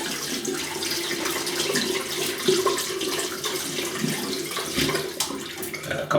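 Tap water running steadily to wet a synthetic shaving brush, a continuous close splashing stream with small shifts as the brush moves under it.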